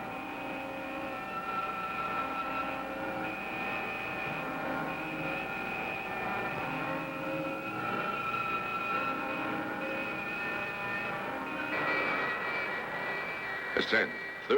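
Spacecraft engine thrust in an old sci-fi film, a steady loud jet-like roar with sustained tonal whine, continuous throughout, rising slightly near the end with a brief burst.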